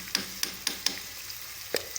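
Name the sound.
onions frying in a pan before adding ginger-garlic paste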